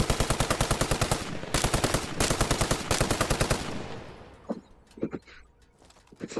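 Automatic video game weapon firing in rapid sustained bursts, loud and close with sharp even rhythm, then stopping abruptly and followed by a few scattered clicks and thuds.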